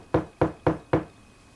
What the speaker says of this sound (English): You knock a little harder this time.